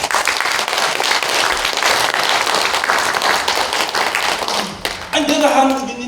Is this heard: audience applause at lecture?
yes